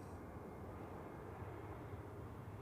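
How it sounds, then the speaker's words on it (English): An Airbus A320 with older-generation engines lands at Zurich Airport, a steady broadband roar of jet engine noise holding evenly throughout without speech. "This time, this here is an A320 old engines."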